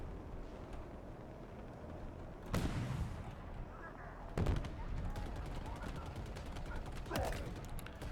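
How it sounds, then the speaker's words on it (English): Enemy gunfire in the Halo Infinite video game, several loud bursts and sharp shots scattered over a rumbling battlefield background, with a rapid volley near the end. "They're shooting at me with something"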